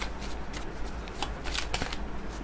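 Tarot cards being shuffled close up during a reading, a quick series of riffling flutters and soft slaps repeating over a few seconds with no voice.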